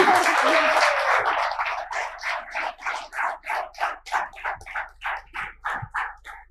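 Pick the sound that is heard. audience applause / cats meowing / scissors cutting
audience applause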